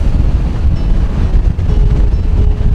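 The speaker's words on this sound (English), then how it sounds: "So yeah, it's windy." Loud wind buffets the microphone in rough, continuous gusts, a heavy low rumble with no speech.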